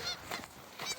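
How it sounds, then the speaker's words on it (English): Geese honking by a riverside on a snowy day, two or three loud, nasal honks close by in quick succession within a second, no voices. "Still surrounded on all sides by geese."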